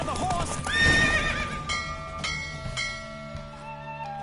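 In The Witcher 3: Wild Hunt, a horse whinnies loudly near the start as hooves clip-clop at a fast gallop during a race, with steady music playing underneath.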